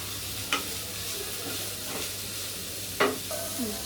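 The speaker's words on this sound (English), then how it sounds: "have to just fry it for a minute" Spring onion and masala fry briefly in a pan for Chinese masala papad, a steady, moderate sizzle broken by two sharp clinks of a utensil against the pan.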